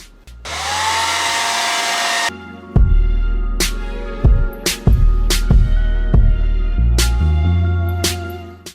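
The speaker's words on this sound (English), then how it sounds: "I'm plugging the blow dryer." A handheld blow dryer roars loudly for about two seconds, then cuts off. Scattered clicks, knocks and a low hum follow close by.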